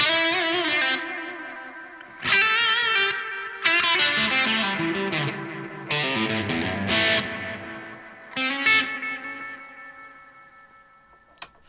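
Tape echo unit driven to extreme settings, several struck notes each blooming into dense, distorted cascades of repeats that pile up, warble and decay, ending in a long fading tail.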